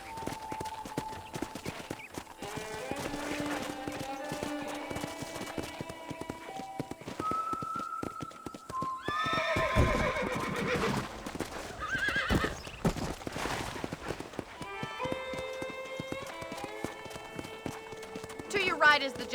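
A horse in the Red Dead Redemption game gallops with rapid clip-clop hoofbeats and whinnies, under steady music and game sounds, with occasional louder hoof and neigh bursts.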